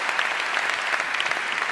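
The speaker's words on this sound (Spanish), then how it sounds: "Enhorabuena, un aplauso fuerte." A short, loud burst of clapping from the audience at a national canoeing gala, dense and continuous with sharp individual claps standing out.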